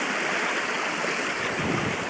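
A brook runs between steep, tin-worked banks on Dartmoor, a steady broadband rush of flowing water with some wind buffeting, constant and fairly close, with no voices.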